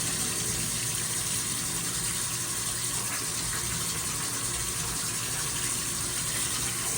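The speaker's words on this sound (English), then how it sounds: "keep running this until all the dirt comes off and you can see all the water running clear" Tap water runs steadily over a K&N air filter being rinsed clean, a constant close hiss with no breaks.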